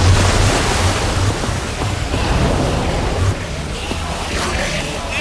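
Water gushes in the Minecraft Story Mode video game, a loud, steady rushing wash that fills the whole stretch without break and stays close and heavy throughout.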